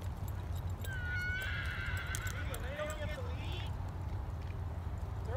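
A horse neighs and whinnies during barrel racing training, a clear rising and falling call over steady outdoor background noise, with hoof clip-clop faintly present.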